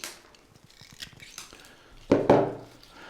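Scissors snip at a natural cone winter arrangement, starting with several light, quick cuts and ending in two louder, close crunching snips, with no voices.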